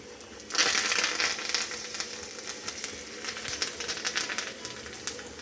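Asafoetida and curry leaves hitting hot oil in a tomato rasam tempering burst into a loud, crackling sizzle, then settle into a steady spatter with scattered sharp pops.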